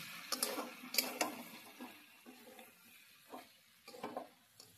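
Potato and pumpkin chunks sautéed with onion, chilli and turmeric in a pan, a faint quiet sizzle broken by scattered taps and scrapes of a stirring spoon, with no voices.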